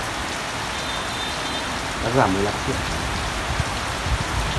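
Rain falls steadily on a bonsai garden, a dense, constant hiss of drops spread evenly throughout, while someone speaks briefly partway through over the downpour.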